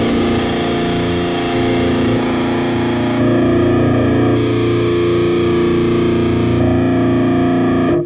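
A heavily distorted metal guitar through the Audio Assault Bulldog amp plugin, a thick, buzzing, sustained chord held loud and unbroken for about eight seconds with slight tonal shifts, then cut off.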